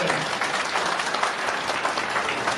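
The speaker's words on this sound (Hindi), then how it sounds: "जोरदार ताली बजा के आपका स्वागत करें।" A crowd at a political election gathering claps steadily and fairly loudly for a chief minister, a dense continuous wash of many hands with no voice over it.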